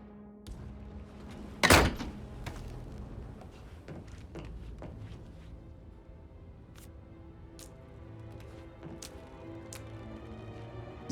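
An office door in a video game opens with a single sharp thunk near the start, followed by quiet room tone and a few faint clicks.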